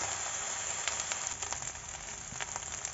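Soy sauce hitting hot egg fried rice made from leftover rice in a pan, giving a steady, close hiss of sizzling with faint crackles throughout and no talking.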